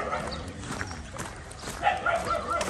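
Several dogs bark and yip in a village market street, moderately close, with horse hooves clip-clopping and people talking nearby.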